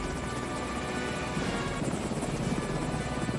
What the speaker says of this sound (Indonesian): Derek pun langsung dibebaskan dan dijemput menggunakan helikopter.